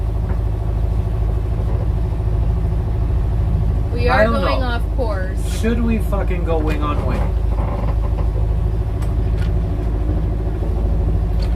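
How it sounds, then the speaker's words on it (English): A steady low engine drone runs throughout, with people talking over it partway through. "we're running the engine, and we're probably going to run it through the night"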